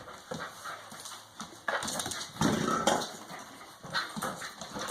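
A dog moves about playfully on a rainy day during a fetch game, giving soft whimpers, panting and scuffling sounds in irregular bursts, with no clear speech over it.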